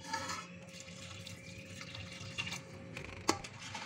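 Water is poured into soaked rice while egg dum rice is prepared, a faint, quiet trickle and splash with a small clink near the end.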